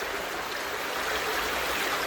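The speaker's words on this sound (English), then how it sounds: "this water then goes down under the Glais embankment, and this stream goes into the River Taff" A stream rushes steadily beneath the old Glais stone bridge at Pontsarn, Merthyr Tydfil, flowing on toward the River Taff; a dense, continuous wash of water noise, close and even, with no voices.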